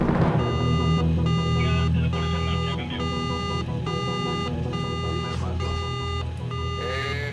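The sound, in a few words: alarm going off on a research ship's buoy monitor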